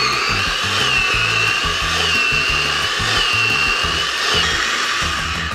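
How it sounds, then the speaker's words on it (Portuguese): A food processor whirs steadily as it blends a paprika and salt mixture for a homemade Big Mac sauce, running loud and continuous with a pulsing low rumble from the motor. "E bora bater. Pode ser no processador ou no liquidificador."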